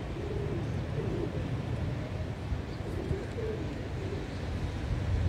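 Pigeons coo softly in low, rolling calls on a rainy street in Dubai, several short coos repeating under a steady wash of rain and background noise.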